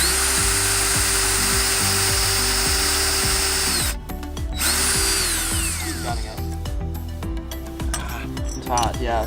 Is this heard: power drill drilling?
yes